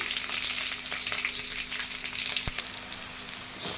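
Curry leaves and onions fry in hot oil, giving a loud, dense sizzle close by, with occasional stirring scrapes and one sharp tap against the pan.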